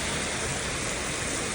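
Steady, dense rain pours down during a New York City thunderstorm, a continuous broadband hiss filling the whole stretch at even loudness with no voices.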